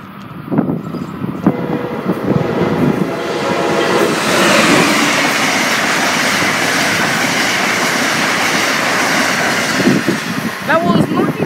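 Amtrak Northeast Regional train led by AC-64 locomotive 642 passing Seabrook station: a loud, sustained roar and rail rumble swell up close and hold steady, with people talking before and after the pass.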